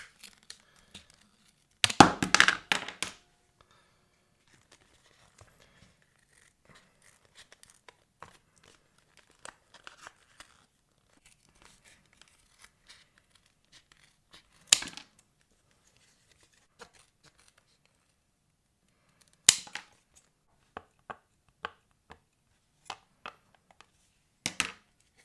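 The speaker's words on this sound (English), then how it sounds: "It's a lot harder to cut than I would have anticipated." An Apple MagSafe phone case is cut open with a sharp tool, giving a loud burst of crinkly tearing and crunching early on, then scattered short snips and scrapes separated by quiet stretches, with no talking.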